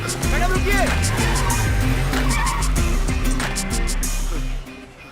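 A car pulls away with loud, squealing, skidding tires. The engine roars steadily for almost five seconds before cutting off abruptly.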